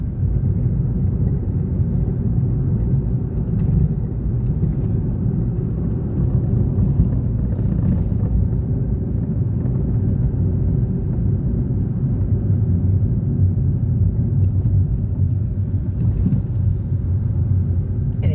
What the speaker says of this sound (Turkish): Evet hafif fren eşliğinde yokuşa iniyoruz.